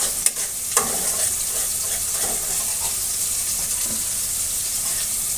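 Masala with beaten sour yogurt and turmeric is stir-fried in a pan for aloo dum potato curry. A loud, steady hissing sizzle fills the sound throughout, with a sharp utensil knock near the start and soft scraping strokes.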